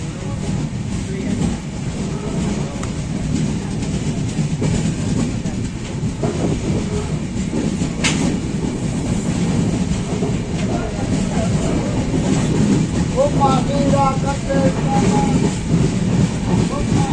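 Mandovi Express running from Mangaon toward Khed, a loud continuous rumble and rhythmic clatter of carriages on the track from on board, with a faint voice in the mix.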